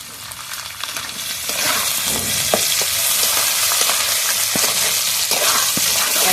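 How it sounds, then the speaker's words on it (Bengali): Tomatoes, green chillies and onions fry in a pan with a steady sizzle, loud and close, broken by occasional sharp clicks of stirring. "একসাথে সব ভাজা ভাজা করে নেব।"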